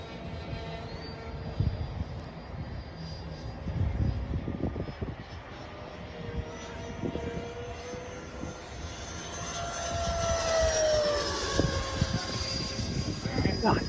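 Radio-controlled model plane making a close pass, its small engine whining and buzzing, rising and shifting in pitch as it nears and passes, heard under people talking.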